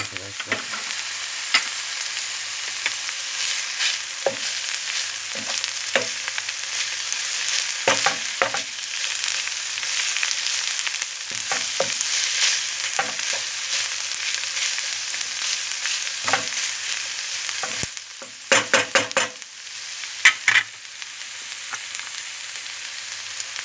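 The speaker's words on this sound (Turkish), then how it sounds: "Şimdi daha da güzel lezzet vermemiz için 3 diş doğranmış sarımsağımı koyuyorum" Three cloves of chopped garlic sizzle steadily in a pan for a home-cooked bean dish, with intermittent clinks and scrapes of stirring throughout, close and without talk.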